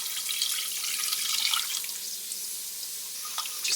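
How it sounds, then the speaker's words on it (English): Chicken bouillon water being poured into a pot of stewed potatoes in a home kitchen, a steady splashing, trickling stream lasting the whole moment, close and fairly quiet with no talking. "I'm just going to pour it in this pot back here."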